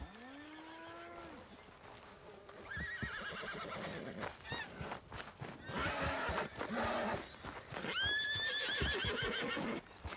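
A horse in Red Dead Redemption 2 lets out loud whinnies while hooves clop, and other livestock low nearby, all close and prominent across the scene.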